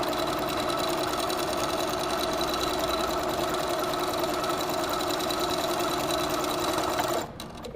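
Steady, continuous whirring of a Little Rebel sewing machine piecing quilt blocks together, close and even for several seconds before stopping abruptly near the end.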